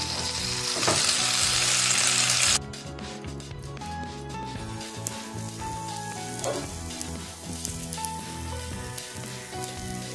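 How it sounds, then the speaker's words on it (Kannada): A buttered sandwich roasts on a hot griddle over a low flame, giving a steady close sizzle and fry. A loud hissing burst opens, then the sizzle settles to a softer, constant crackle with occasional scrapes. "ಹೆಂಚು ಕಾದಿರುತ್ತೆ, ಸ್ವಲ್ಪ ಲೋ ಫ್ಲೇಮಲ್ಲೆ ರೋಸ್ಟ್ ಮಾಡ್ಕೋಬೇಕು"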